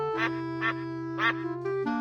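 Two loud, close duck quacks in a counting game for children, a drawn-out honk followed by a shorter one, set against a steady background tone.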